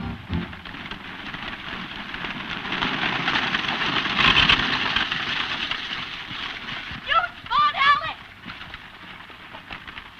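Horses' hooves clip-clop steadily at a trot under a wash of rain-like noise, with a horse whinnying loudly near the end.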